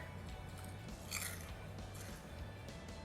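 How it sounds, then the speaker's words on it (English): Close, crisp crunching from chewing crispy roasted Brussels sprouts, with a few louder bites standing out over a steady munching rhythm; no talking. "You hear that crunch?"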